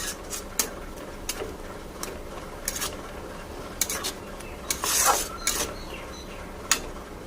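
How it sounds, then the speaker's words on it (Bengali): Garlic, green chili and ginger paste being stirred and fried in a pan while cooking a pointed gourd and prawn dish, with repeated scraping clinks of a spatula against the metal pan over a low steady background, no talk. "মশলাকে ভালো করে কষিয়ে নেব"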